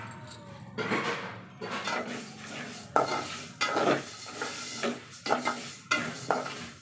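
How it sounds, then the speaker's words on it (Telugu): Mustard seeds dry-frying in a pan without oil for mango pickle, with a steady hiss and repeated scraping and clinking as they are stirred, close and fairly loud, no voices. "ఈ ఆవాలనేది డైరెక్ట్ వేస్తున్నా"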